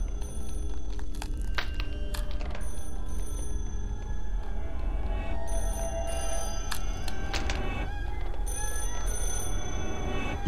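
A telephone rings in a video game, its bell-like repeating tones sounding across the whole stretch over a dense, continuous background of game sound and music.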